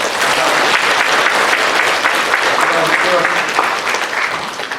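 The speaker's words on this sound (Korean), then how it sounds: "다시 한번 큰 박수로 환영하겠습니다." Loud, sustained applause from a church congregation welcoming a couple fills the whole stretch, dense and even throughout.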